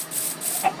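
A chicken in the Minecraft video game gives two quick, close clucks near the end of a short burst of steady game background noise.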